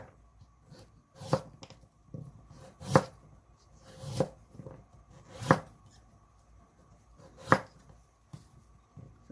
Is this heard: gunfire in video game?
no